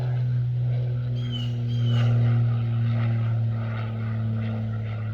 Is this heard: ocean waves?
no